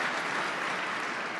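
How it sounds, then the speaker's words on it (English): Steady, dense applause from a large audience at an investment conference in Riyadh, a continuous wash of clapping hands with no gaps, moderately loud throughout. "Can I get a big round of applause for His Excellency, ladies and gentlemen?"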